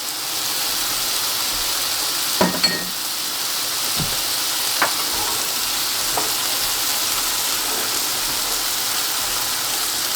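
Garlic hitting softened mushrooms in a hot pan gives a steady, close sizzle, with a few clinks from a utensil and stirring scrapes early on and no talk.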